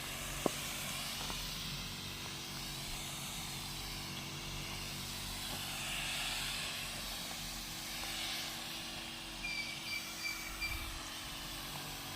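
A 20-litre folding backpack pump with a double nozzle sprays water in a steady, faint hiss. The hiss is continuous and unbroken, with a few soft knocks near the end and no talking.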